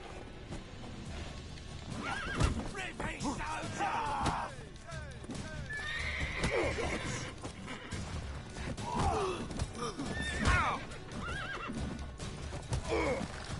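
Geralt's horse Roach in The Witcher 3 neighs and whinnies several times amid clip-clopping hooves, while game characters talk throughout.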